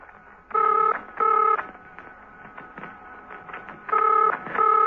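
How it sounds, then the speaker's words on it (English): A telephone rings in a quiet room in paired electronic bursts, one pair near the start and another near the end, with faint background sounds in between. "Steed's telephone was ringing."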